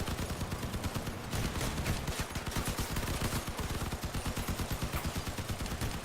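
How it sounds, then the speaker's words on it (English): Machine gun firing in the vehicle combat video game Crossout: dense, continuous rapid gunfire that holds steady and loud throughout, with no speech. "So now I've got a little derpy machine gun. Let's see if I can take out his weapons."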